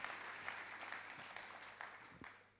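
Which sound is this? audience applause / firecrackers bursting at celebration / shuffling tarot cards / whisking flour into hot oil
audience applause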